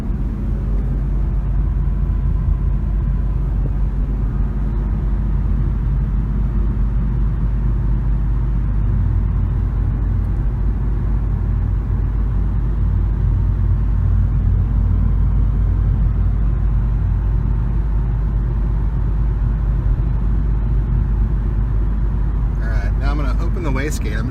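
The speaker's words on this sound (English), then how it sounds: "This is 70 mile an hour in the car, and I'll go quiet just so you can hear" Steady low road rumble and engine drone from inside a Ford EcoBoost Mustang with an external wastegate, cruising at 70 mph on an interstate, continuous and even, with no talking.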